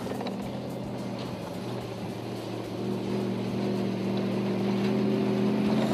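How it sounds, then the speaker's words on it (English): A Laird Centaur half-track, a Land Rover front with light tank tracks, drives along with a droning engine and clanking, banging tracks that grow slightly louder toward the end. "That's the track banging."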